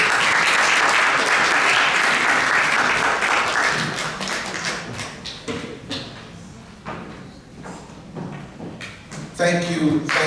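Audience applause after a speech at a United Nations peace event, strong at first and then thinning into scattered claps, with voices and a few thuds and footsteps as it fades.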